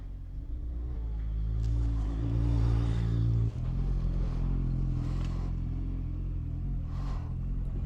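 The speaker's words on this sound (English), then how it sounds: "You can hear all sorts going on behind me. I've got motorbikes, cars." Engines rumble continuously as motorbikes and cars pass nearby below Lydeard Hill, with a rising rev and a deep steady drone throughout.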